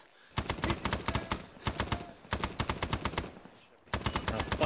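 Rapid bursts of automatic gunfire from the Arma 3 video game, firefight in a Vietnam-era campaign, coming in several sustained volleys with brief pauses between them, loud and dense.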